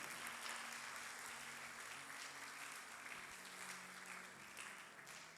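Church congregation applauding during a worship service, a faint, steady wash of clapping that continues evenly throughout, heard from a distance with low room hum beneath.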